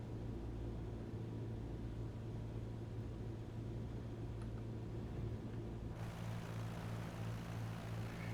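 A propeller airplane drones steadily in a video game flight simulator, a continuous low engine hum and rumble that shifts slightly in tone partway through, with no one speaking.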